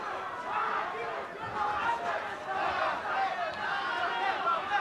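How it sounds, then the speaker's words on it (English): Boxing crowd noise at a fight night, a broad sustained murmur of many voices with scattered shouts swelling and dipping steadily throughout. "Zarate crowd starting to make some noise"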